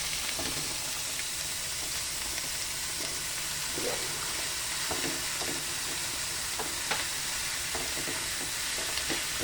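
Ground pork frying and being stirred in a pan with plenty of chopped onion, a steady broadband sizzle with occasional scraping stirs, close and continuous with no talking.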